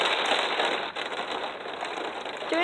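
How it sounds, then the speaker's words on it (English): Heavy rain pounds against a window in a dense, continuous hiss and patter, loud and close, with no talking. "The rain is pushing so hard it feels like it's gonna break this window."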